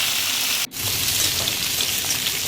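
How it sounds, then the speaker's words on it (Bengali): Pumpkin, eggplant, radish, beans and drumsticks fry in oil with panch phoron and dried chilli, giving a loud continuous close sizzle broken by a brief stir or clatter. "পাঁচফোড়ন দিয়ে কুমড়ো, বেগুন, মূলো, শিম, বরবটি, সজনে ডাঁটা দিয়ে এগুলাকে ভালো করে কষিয়ে নিচ্ছি।"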